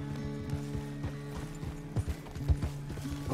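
Horse hooves trot in the video game Red Dead Redemption 2, a steady rhythmic clip-clop with creaking tack over a low background hum and no speech.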